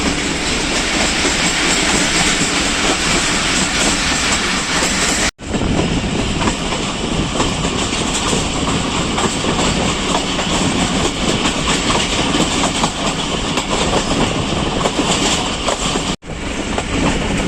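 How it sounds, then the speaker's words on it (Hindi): The Kohat Express rolls along the tracks from hills toward the plains near the Indus, a loud continuous rumble and rattle of wagons with clickety-clack, heard close and unbroken apart from two brief cuts. "पहाड़ों से निकलकर अब मैदानी इलाके और दरियाए सिंध की जानिब बढ़ रही है ट्रेन"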